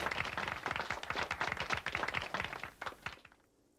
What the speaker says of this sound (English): A lazy applause fills the room.